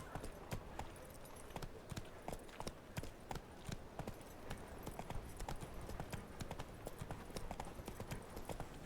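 Hooves of Roach the horse in The Witcher 3 galloping in a steady, fast clip-clop rhythm, close and continuous over a faint game background.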